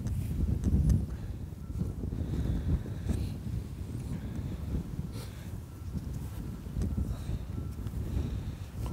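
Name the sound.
strong wind blowing into the microphone outdoors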